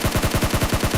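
Sustained automatic gunfire in the PUBG Mobile battle royale game, a steady rapid rhythm of roughly ten shots a second, loud and close throughout with no voices over it.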